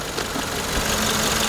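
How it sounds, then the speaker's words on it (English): A Suzuki Swift's engine idles steadily in a clean engine bay at a used car dealership, a constant low hum with a faint knocking texture and no voices. "I can assure you the engine is running"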